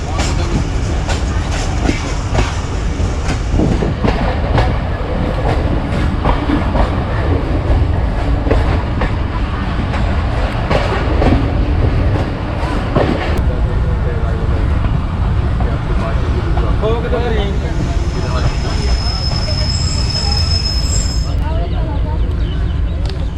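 Zakaria Express passenger train running on rails between Karachi and Multan, heard from onboard as a loud, steady rumble with rhythmic clickety-clack of wheels over rail joints, and a faint tonal whine appearing near the end.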